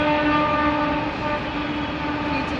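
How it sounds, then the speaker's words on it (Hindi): A train rushes past close by in a loud, steady roar with sustained horn-like tones layered over the rumble of the cars. "देख रहे हो कितनी तेज आ रही है हमारे यहाँ रेल"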